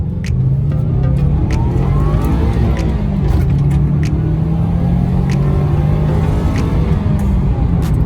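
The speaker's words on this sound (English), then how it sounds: "I just thought I'd do a little driving video for you guys, see what you think it sounds like." A Subaru Impreza WRX engine revving steadily while driving, a loud close droning rumble from inside the car with rising and falling pitch and faint ticking sounds above it. No one speaks.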